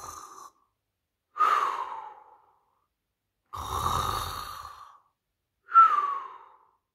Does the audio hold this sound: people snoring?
yes